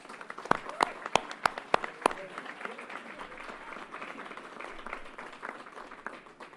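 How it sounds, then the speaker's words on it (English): Applause at a Yankee Stadium announcement, opening with several sharp, close individual claps before a broader crowd clapping swells and continues steadily, with some voices mixed in. "Let's give her another round of applause."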